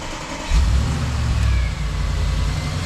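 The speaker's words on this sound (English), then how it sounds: "We're going to start up the vehicle and prime the transmission fluid." An Audi S8 engine cranks and fires up after a half-second, settling into a loud, deep, steady idle heard close by.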